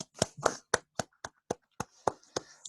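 A small group claps briefly, a dozen or so sharp claps in an uneven rhythm, close by and fairly quiet.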